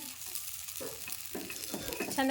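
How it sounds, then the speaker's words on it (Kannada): Food frying in a pan is stirred: a steady sizzle with scraping strokes of the spoon, close and fairly loud, with no talking. "ಇವನು ಫ್ರೈ ಆಗ್ಯಾವ್ರಿ ತಿರ್ವಾಕೊಂಡ್ಬಿಡ್ತೀನಿ ರೀ"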